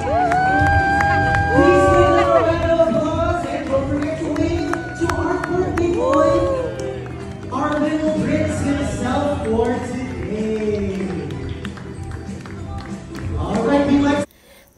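Family and guests at a child's first birthday and dedication cheer and clap as the baby is carried in, excited voices rising over scattered clapping, fairly loud and close before it cuts off at the end.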